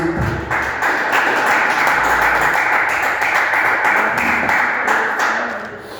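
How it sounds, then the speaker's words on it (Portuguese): Church congregation clapping joyfully for Jesus, a dense, steady wash of many hands close by, holding for several seconds before tapering slightly at the end, with little talk. "Os irmãos podem se assentar com palmas bem alegres para o Senhor Jesus."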